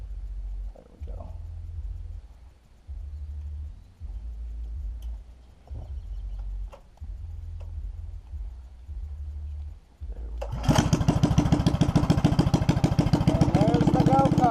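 A minibike engine with a brand new exhaust starts up loud and close after a stretch of low rumbling and talk, then runs steadily with a raspy, pulsing exhaust note.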